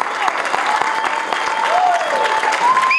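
Church congregation clapping in praise during a service, dense sustained applause filling the room, with voices calling out over it.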